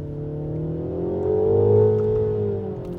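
Inside a car in Timeless mode, synthetic engine noise modelled on an old-school Mini hums steadily through the cabin, rising gently in pitch and loudness and then easing off.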